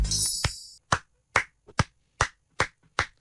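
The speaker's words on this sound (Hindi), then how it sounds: "ये मैं तालियां बजा रहा हूँ पाकिस्तान की मिडिल ऑर्डर के लिए भाई" A man clapping his hands: about six sharp, evenly spaced claps ring out close and alone after a short burst of noise at the start.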